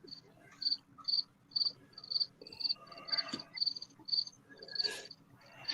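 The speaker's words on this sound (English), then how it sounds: "I got crickets out here. You can hear them." Crickets chirp outdoors in a steady, evenly spaced pulse of bright trills, moderately loud against a low background hum with faint scattered noises.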